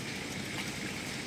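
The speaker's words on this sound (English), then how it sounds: "The water's coming in" Water trickles steadily into a grounded houseboat near a small 3-horsepower engine, a faint, even, hissing flow without pauses or voices.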